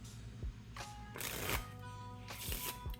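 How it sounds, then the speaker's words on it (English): A deck of playing cards is shuffled, with bursts of crisp riffling and flicking in quick close-up flurries separated by short pauses, and no speech. "You shuffle the deck"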